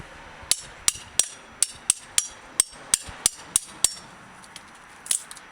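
A hammer strikes a chisel driven into the mortar between chimney bricks: about a dozen sharp, ringing metallic blows at a steady, slightly uneven rhythm, close and clear, then a pause and one final hit.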